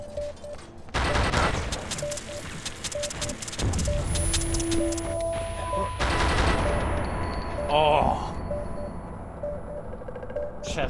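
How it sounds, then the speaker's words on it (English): Gunfire in an Xbox first-person shooter match, loud dense bursts of rapid automatic shots in quick repeated volleys, close and continuous across the clip with game effects mixed in. "Shots."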